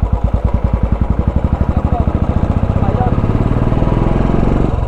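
A motorcycle engine with a new aftermarket exhaust and a single gear lever runs up through the gears, sounding close and loud with a rapid pulsing exhaust beat that quickens and smooths into a steadier drone.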